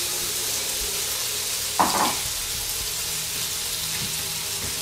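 Beef fries in a hot pan, a continuous close sizzle with a brief louder burst of spatter as the meat is spread around, steady afterward with no voice.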